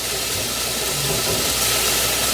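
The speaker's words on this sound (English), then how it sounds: "this is starting to saute nice, guys" Shrimp, chicken and vegetables sauté in a hot pan for a stir fry, giving a loud, dense, continuous sizzling hiss that holds steady from start to finish with no speech.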